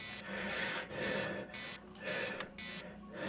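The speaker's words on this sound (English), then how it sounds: "I may as well disable these alarms." CO2 alarms in the video game Tin Can give a repeating electronic beep-like tone in regular pulses of about half a second. They play at moderate level over a steady hum, with no talking.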